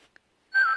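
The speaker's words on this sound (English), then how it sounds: "now the Hogwarts Express is whistling" Lionel LionChief Harry Potter Hogwarts Express toy train whistle, a single steady bright tone that starts abruptly after a brief quiet moment and carries on close and fairly loud to the end.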